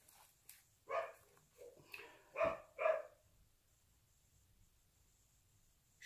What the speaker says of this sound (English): Hubby pulled up on the four-wheeler and the dogs went absolutely ballistic.